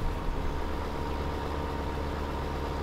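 Tractor engine in Farming Simulator 2015 idling at a steady rumble, a continuous, even drone with no change in pitch, close and loud, with no voices.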